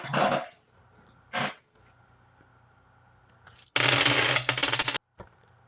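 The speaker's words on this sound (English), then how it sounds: "That's a lot of dice." Dice rolling in a tabletop game of D&D 5e: short clattering bursts tumbling across a surface, separated by quiet gaps, with one longer, louder rattle near the end.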